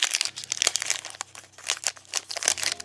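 Foil wrapper of a Pokémon Sun and Moon booster pack being torn and crinkled open close up, a continuous dense crackle with sharper rips, a low steady hum beneath and no talking.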